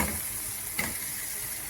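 Ground fenugreek, pepper and cumin stirred into a frying pan, a steady close sizzle with one brief scrape of the spoon partway through.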